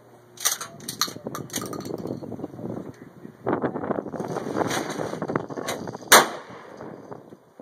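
A shotgun being fired at clay targets outdoors: a few sharp pump clacks and handling noises, then one loud blast near the end, with wind buffeting the microphone throughout.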